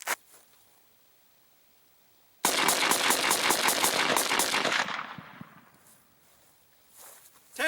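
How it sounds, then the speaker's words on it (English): A semi-automatic rifle is fired as fast as possible outdoors, about a dozen sharp, loud shots in a quick rhythmic burst lasting a couple of seconds. Quiet follows, with faint rustling afterward. "I'm going to shoot it as fast as I can shoot it"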